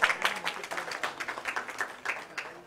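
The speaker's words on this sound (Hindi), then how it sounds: "अगर आपको तो जरा तालियों की आवाज भी सुना दीजिए" Scattered audience clapping at a pre-Christmas celebration event, a moderate burst of uneven handclaps that continues steadily and fades slightly toward the end.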